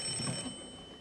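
A telephone rings once, a short, faint electronic trill that fades into quiet room tone.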